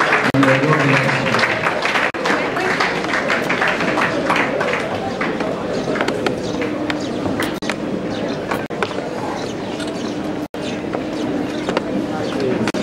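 An audience at a university lecture on corruption claps as a barrister mounts the podium, a steady unbroken wash of clapping that holds for several seconds amid crowd murmur and some talking.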